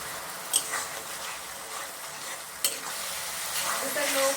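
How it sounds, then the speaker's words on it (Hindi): Ginger garlic paste frying in a pan on a low flame, a steady soft sizzle with occasional stirring scrapes and two sharp clinks from a spoon against the pan. "इसे लो फ्लेम में 2 से 3 मिनट तक फ्राई करेंगे।"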